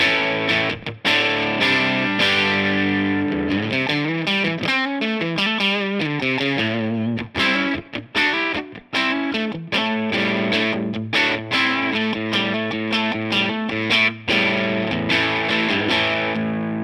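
Electric guitar played through a Boogie California Tweed 6V6 amp on its low input at the highest gain setting, a thick overdriven tone with strummed chords and single-note runs, loud and steady with no voices.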